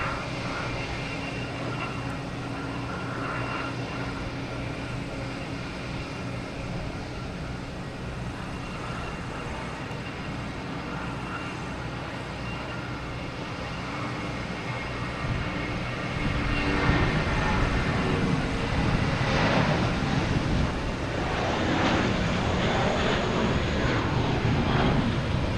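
An airplane coming in to land at Logan Airport sends a steady, loud engine roar across the whole stretch, swelling louder and rougher in the second half as it passes close overhead.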